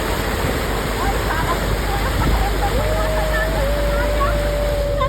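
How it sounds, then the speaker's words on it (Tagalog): Floodwater churns in big waves around a Toyota Hilux 4x4 driving through deep typhoon flooding on a bypass road, a loud continuous rushing roar heard close up, with a thin whine rising partway through. "Ang laki ng alon."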